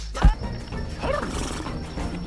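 Horses neigh in the animated film Ferdinand, a loud thump followed by a rising whinny amid busy background noise.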